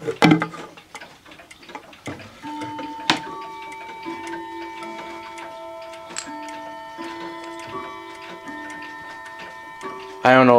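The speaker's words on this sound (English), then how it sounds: "but clocks are chiming right now" Howard Miller Sandringham wall/mantel clocks chime together, a slow sequence of sustained bell-like tones ringing out and overlapping at moderate volume over a faint steady ticking.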